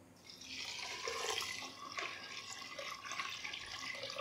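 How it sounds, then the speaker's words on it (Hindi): Roughly a litre of water pours steadily into a pressure cooker already holding wheat, moong dal and rice, making a continuous close splashing gurgle throughout a few seconds with no voices. "और इसमें पानी ऐड कर देंगे।"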